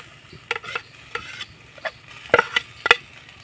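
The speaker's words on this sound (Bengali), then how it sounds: "এবার নাড়াচাড়া করে আমি পুরটা তৈরি করে নেব।" A spatula stirs grated coconut and jaggery filling in a wok over a lit stove, producing irregular scraping clacks and knocks against the metal over a faint sizzle.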